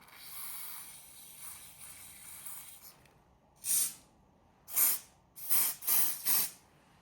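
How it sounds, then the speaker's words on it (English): Short bursts of aerosol hair spray hiss close by, five quick sprays after a few seconds of faint rattling, with quiet pauses between them. "So I'm going to be using this spray to do so."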